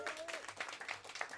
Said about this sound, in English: round of awesome applause